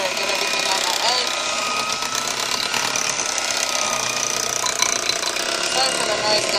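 An electric mixer whisks cake batter and is turned up to a higher speed, giving a loud, steady mechanical whir that continues without a break. A voice speaks faintly beneath it.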